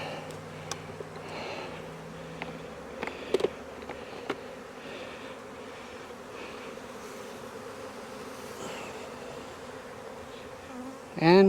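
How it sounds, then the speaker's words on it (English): Honey bees buzz steadily inside a hive box being set up in April, a dense continuous hum with a few brief knocks and handling sounds over the swarm. "And we have a box here full of bees."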